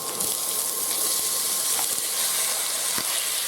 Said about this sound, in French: On commence à mettre les oignons.